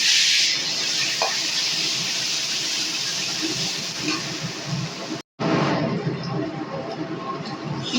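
Chopped onions dropped into hot oil already seasoned with dried red chillies and bay leaf, frying with a steady, loud sizzling hiss that breaks off for a moment and then resumes, for a Bengali shol fish curry.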